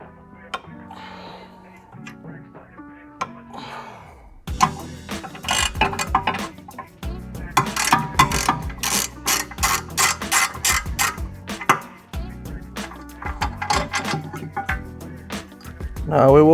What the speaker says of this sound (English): Now to remove our caliper bracket, we're just going to pull these two bolts with an M14 triple square.